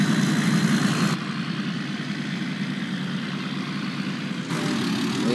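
A 2020 3500 pickup truck engine idling in a modded driving game, a steady low rumble that continues evenly throughout with a slight change in tone partway, no voices.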